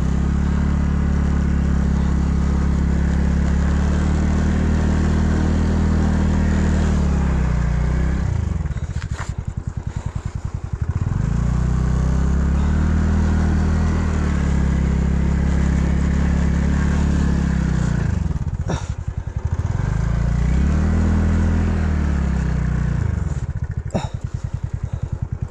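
TVS Ntorq 125cc scooter engine labouring through deep snow on Sela Pass near Tawang, Arunachal Pradesh, its steady low drone rising and falling in repeated revving surges, loud and close with clattering bursts between.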